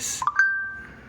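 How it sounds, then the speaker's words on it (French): A phone notification chimes once with a short rising pair of bright tones that settle into a thin sustained ring fading out in quiet surroundings. "C'est le téléphone qui lâche pas."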